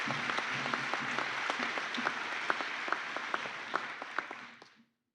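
A graduation crowd gives a round of applause for new graduates, a dense, sustained patter of many hands at a moderate distance that tapers off and stops abruptly near the end.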